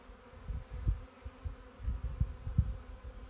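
Honeybees buzz in a low, steady drone from an opened hive during a February check after winter, with the hum swelling in several pulses close by and no voices.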